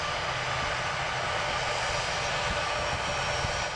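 A fixed-wing aeroplane's engine roars steadily at East Midlands Airport, a broad, continuous rumble at moderate distance with no talk over it.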